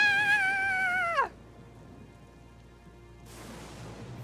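Soft, steady rain patters through a stormy night scene in the Professor Layton vs Phoenix Wright video game, starting after a sharp musical tone ends and swelling slightly louder near the end.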